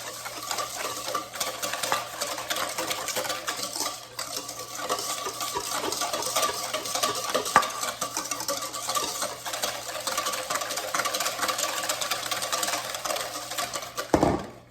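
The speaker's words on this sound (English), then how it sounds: "Whisk it." Coconut sugar mixture being whisked in a bowl for gluten-free, dairy-free cookies, a steady, fairly loud scraping and rattling that runs unbroken for the whole stretch, with a knock near the end and no talking.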